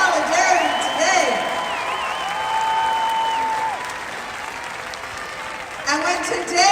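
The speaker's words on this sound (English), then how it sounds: "Give them a round of applause, all these local businesses who committed to solidarity today." A protest crowd in Minneapolis, rallying against ICE raids, keeps up sustained applause, with whoops and cheering voices rising above the clapping and a fresh swell near the end.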